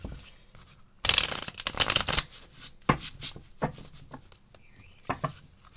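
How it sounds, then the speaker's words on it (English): Tarot cards riffle and slap together during a card reading, two bursts of shuffling followed by scattered soft taps and rustles, close up with no speech. "Shuffle a few more times here."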